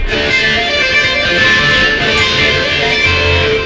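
A thick wash of ringing guitar strings sustains throughout, dense and bright with overlapping tones, steady in volume and untouched by any voice.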